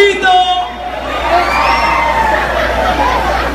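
Concert audience shouting and cheering at a live Corazón Serrano show in New Jersey, a dense crowd roar with whoops and high voices that swells and holds steady throughout.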